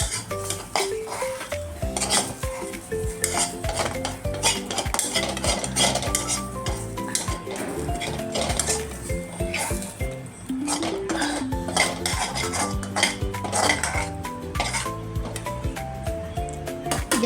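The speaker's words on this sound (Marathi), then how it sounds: "आता आपण खोबरं भाजून घेऊया." Grated coconut being roasted in a pan with a spoon or spatula on low heat while cooking a spicy chicken masala, with steady scraping and metallic clinks of utensil against pan, continuous and close, over music.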